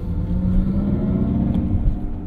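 A 2022 Mercedes-Benz EQS 580 electric car drives along with a smooth synthetic driving sound, a continuous low hum and whirring rumble that swells gently as it accelerates, heard from inside the cabin.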